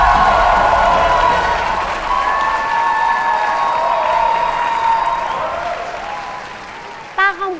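A stage comedy audience applauds, dense clapping and crowd noise that starts loud and slowly fades, with people talking and music over it.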